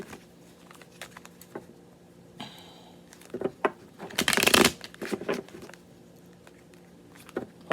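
A deck of playing cards being shuffled, with soft scattered riffles building to a dense, close flurry of card flutter midway, then tapering into light taps and handling noises, no talk.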